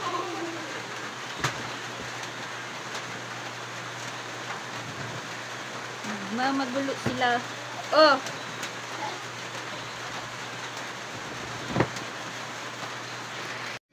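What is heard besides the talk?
rain falling on surfaces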